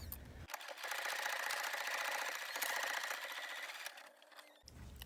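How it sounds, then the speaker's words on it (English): A sewing machine stitches doll sleeve pieces in one steady, close run of rapid mechanical whirring lasting a few seconds before stopping, with quiet pauses before and after. "I cut out a total of 4 sleeve pieces and I'm sewing them together along the bottom"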